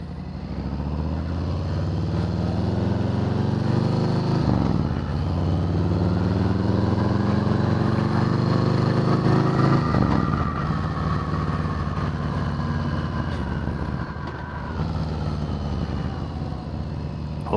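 A 2020 Harley-Davidson Softail Standard motorcycle on the road, its close, loud V-twin engine rising in pitch under throttle, dropping through gear changes, then revving up again.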